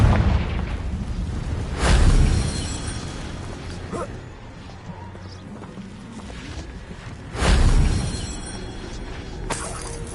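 Two loud Confringo spell explosions from Hogwarts Legacy burst with deep booms several seconds apart, each decaying into rumble, and a fainter crack follows near the end.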